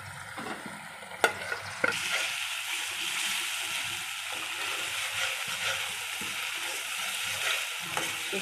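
Spice powders frying in oil in a pan for Nellore fish curry, a steady bright sizzle with a few sharp spoon knocks near the start and light stirring throughout.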